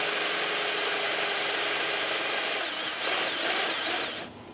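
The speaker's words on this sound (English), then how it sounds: "So let me cut this off and drill this out real quick." Power drill boring out a homemade fishing rod's power handle, a steady loud whirring drone running alone for about four seconds before cutting off.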